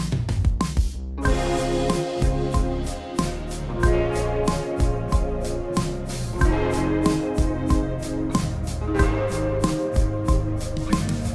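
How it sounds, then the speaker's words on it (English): A driving electric guitar part with a thick, effected tone in an indie pop style, strummed rhythmically in a full band mix over steady drums, no voices. "I'm gonna try to just lay some guitar here in the chorus."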